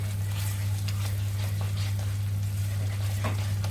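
Vegetable kofta mixture frying in oil, a steady soft sizzle with scattered faint crackles over a constant low electrical hum, fairly quiet and with no talking.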